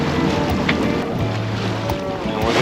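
Sailboat moving under sail on open water with the engine off, a steady rush of wind and water noise with hull wash throughout, loud and close with no talking.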